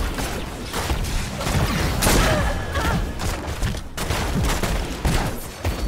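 Rapid volleys of energy bolts from Valla's Strafe ability in Heroes of the Storm, a dense, continuous barrage of shots and thuds layered over busy battle effects, with no speech.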